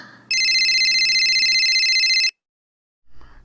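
A cell phone ringtone sounds loud and close as a steady electronic warble for about two seconds, then cuts off abruptly, followed by a brief low rustle.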